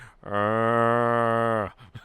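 A single long, loud, steady cow moo with a rich harmonic tone, sustained for over a second and then cutting off.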